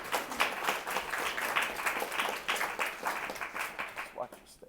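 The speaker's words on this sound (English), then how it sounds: "Would you all give a round of applause to Dominie Nash as she comes up?" An art-talk audience claps for Dominie Nash as she comes up, a moderate, steady patter of many hands lasting several seconds before thinning out at the end.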